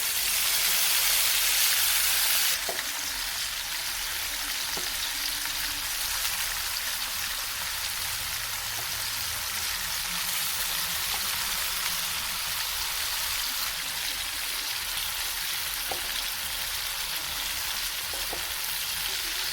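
Paneer cubes frying in hot oil in a home kitchen, a continuous dense sizzle like steady rain that runs throughout, louder at first, with a few faint clicks of utensils.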